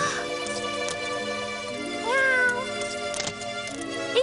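Cartoon cat meowing loudly in several drawn-out, wavering cries over a steady animated-show music bed.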